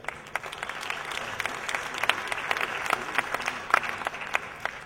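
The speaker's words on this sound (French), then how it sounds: "Mesdames et messieurs, je vous demande d'applaudir Monsieur Thierry Apotheker" Applause at an economics and markets conference as a speaker is welcomed, a steady mass of clapping from a seated audience with a few sharper individual claps cutting through, with no voices over it.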